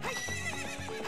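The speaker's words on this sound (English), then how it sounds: "That horse and opponent neighed at the same time, so it sounded weird." A horse whinnies in a video game played on the N64, a short, close, bright neigh with clip-clop hoof sounds underneath, over in about a second.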